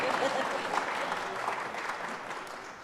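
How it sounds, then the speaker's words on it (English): Audience applause in a legislative chamber during a Kentucky State of the Commonwealth address, a moderate, steady patter of clapping from the crowd, fairly distant and fading gently toward the end. "we're clapping for the Yankees tonight?"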